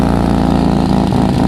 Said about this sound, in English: just got a little bit of an exhaust leak